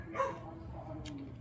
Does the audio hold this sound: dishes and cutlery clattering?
no